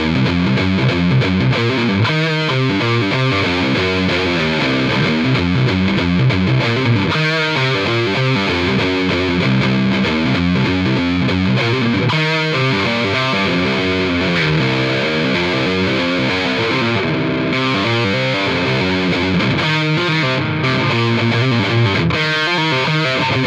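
Electric guitar with Gibson Custombucker pickups played through heavy distortion with no delay or reverb, a continuous loud stream of chugging riffs and sustained chords with fast articulate phrasing, no voices.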